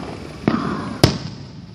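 July 4th fireworks pop twice outdoors, two sharp distant bangs about half a second apart, each followed by a short fading crackle over a low background hum.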